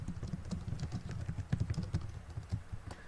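Rapid, uneven keystrokes tapped out on a computer keyboard while typing comments, a steady stream of soft clicks close by with no voices.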